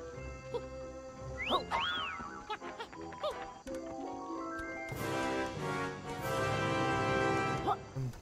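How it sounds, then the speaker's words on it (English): A bright whistle glides up and down in short melodic phrases over the busy soundtrack of the video game Yooka-Laylee, with chiming tones and steady background music. "I heard a whistling from somewhere coming."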